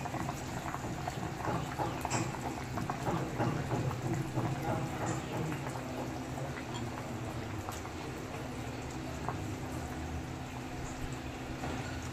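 Bata fish curry simmering under a lid, a soft continuous bubbling and gurgling that stays fairly quiet and even, with faint background sounds.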